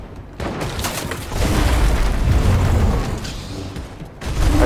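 Gunfire in the Fortnite video game, bursts of rapid booming shots with a rattling mechanical edge, fairly loud and dense through the middle, easing briefly before another burst near the end.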